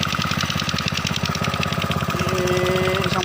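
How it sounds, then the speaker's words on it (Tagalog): Four engines run together in a rice field, a loud, steady rhythmic chugging and knocking throb that continues without pause, with a faint tonal whine appearing near the end. "bali apat ang umaandar namin makina ngayon guys."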